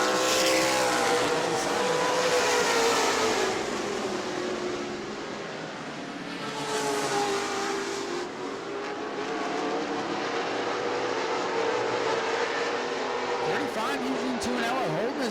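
Modified race cars roar around the New Smyrna track in Florida, engines howling with rising and falling pitch as the pack passes. A commentator's voice runs over the steady, loud racing noise.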